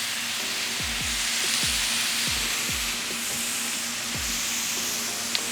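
A crawfish Philly mix of crawfish with salt and pepper fries in a pan with a constant loud sizzle, punctuated by several sharp clinks and scrapes of a utensil against the pan.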